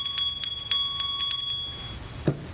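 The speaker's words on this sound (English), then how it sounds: "I'll ring a bell to start" A meditation bell rung to open a session gives several bright, ringing strikes with long sustained tones that hang in the air, then fade into quiet near the end.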